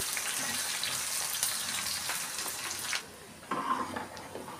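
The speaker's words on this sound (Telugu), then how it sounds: "ఉల్లిపాయలు మంచి రంగు వచ్చేంత వరకు వేయించేసుకుందాం." Thinly sliced onions and curry leaves fry in oil in a pan for a tempering, making a steady, close, rain-like sizzle that drops away abruptly partway and then returns more softly.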